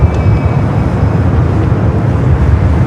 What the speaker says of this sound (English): Should be seeing that A380 Super heading up here for north side at takeoff